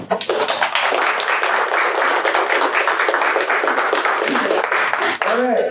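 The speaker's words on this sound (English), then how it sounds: "The applause just woke you up." An audience applauds at the close of a presentation, a dense, loud, sustained wash of many hands clapping that runs throughout, with a voice starting up just as it ends.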